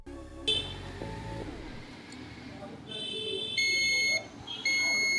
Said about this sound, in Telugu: ఒకసారి బజర్ మోడ్లో పెట్టి చూపిస్తారు.